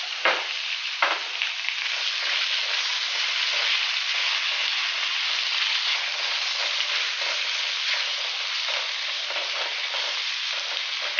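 Fish frying in a pan with tomatoes and no oil: a continuous, close sizzle with a few sharp crackles and stirring scrapes near the start, steady and even throughout, with no one speaking.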